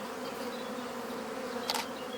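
Honey bee swarm being shaken into hives: a dense, steady buzz of many bees droning close by, with a brief louder burst near the end.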